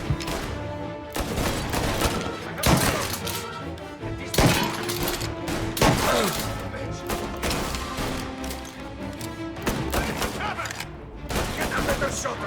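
Intense gunfight in Mafia Definitive Edition, with rapid bursts of gunshots and shattering impacts repeating over several seconds amid game music and shouted voices.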